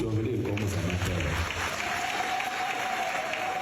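An audience at an agricultural conference breaks into sustained applause, dense clapping filling the room steadily throughout, with a faint tone and possible voices in the mix.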